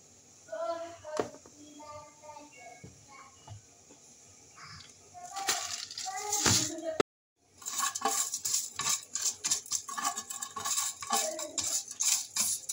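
Cooked seffa noodles tipped and turned into a basin, giving soft clattering, scraping and rustling handling sounds with utensil clinks, growing busier and louder after a brief pause midway.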